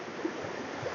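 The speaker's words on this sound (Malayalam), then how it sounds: "അവിടെയൊക്കെ അത്യാവശ്യം നല്ല ഫോഴ്സിലാണ് അവിടെയൊക്കെ വെള്ളം വന്നുകൊണ്ടിരിക്കുന്നത്" River water rushes with force over rocks, a constant broadband roar that is fairly faint and steady across a brief moment.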